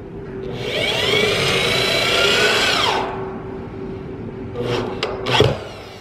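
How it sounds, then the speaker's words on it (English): A power drill drives the first screw into steel wall studs while a tiny house on wheels is framed. It gives a rising whir for about two seconds and then winds down, followed by a few short scraping, clanking bursts. "First screw about to go in to make the walls."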